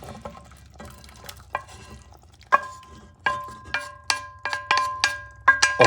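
Kangaroo mince and its juices go into a pot of chili with tomato sauce, bringing a string of sharp metallic clinks and scrapes of a utensil against the pot over a soft, low simmer.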